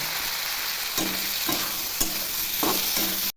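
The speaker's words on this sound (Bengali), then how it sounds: "আলুগুলোও দিয়ে ভালো করে ভেজে নেব" Potatoes with turmeric and onion fry in a pan, a steady broadband sizzle with several brief stirring scrapes spaced through the clip, close and loud with no talking.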